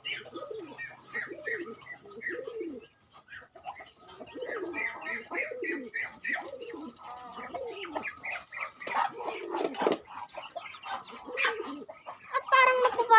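Pigeons coo in repeated soft, rolling calls, close by, with overlapping birds and a low, varied murmur running throughout, plus a brief faint voice.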